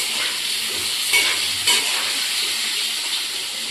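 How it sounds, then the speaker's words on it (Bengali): Potatoes fry in a pan with turmeric and salt for a biryani, giving a loud, steady close sizzle with a couple of brief stirring scrapes. "আমরা খুব সুন্দরভাবে আলুটাকে ভেজে নেব"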